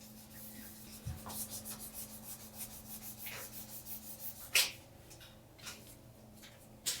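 Steady rhythmic rasping of sandpaper rubbing back and forth on a lacquered tumbler, close up, with a few sharper scrapes and taps along the way.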